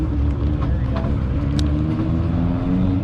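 A lifted truck at an Import Faceoff event idles and revs roughly with a damaged transmission or front differential, a loud, continuous low mechanical rumble close by, with faint crowd chatter underneath.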